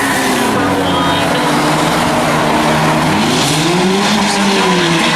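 A race car on a short track slows down, its engine tone falling and winding down loudly over steady background track noise, with a commentator talking over it.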